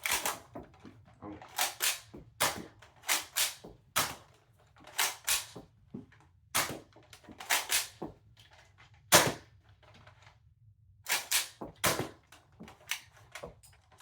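A realistic Nerf blaster firing a rapid string of sharp, close pops and clacks, in bursts with brief pauses and a low mechanical hum running underneath.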